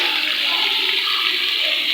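Water poured into a hot pan of ghee tempering with red chilli powder for chicken nihari hisses and roars loudly and steadily, a dense broadband rush filling the whole two seconds with no talking.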